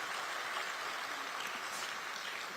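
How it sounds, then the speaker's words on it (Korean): A crowd at a Gyeonggi Province political gathering applauds with dense, steady clapping throughout. "여러분 자축하는 의미로 박수 한번 보내주시죠."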